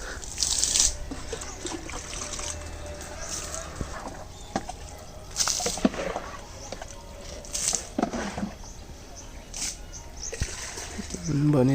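Cold water is drawn from a drum and splashed outdoors in winter, with intermittent splashes and pours scattered among people talking and faint rustling nearby.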